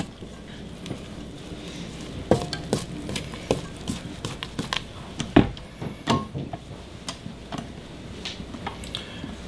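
A spatula scrapes the sides and bottom of a mixing bowl of brownie cheesecake batter in irregular knocks and scrapes, some sharper taps standing out, close and fairly clear with no talk.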